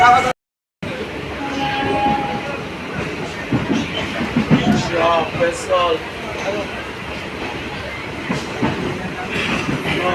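A train departing Sealdah station rumbles steadily along the rails with a constant clatter, indistinct voices murmuring in the carriage throughout.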